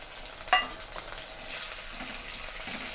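Tomatoes drop into onions frying in hot oil in a pan for a cauliflower curry, bringing a brief splash and clatter followed by a steady bright sizzle, close by and with no voices.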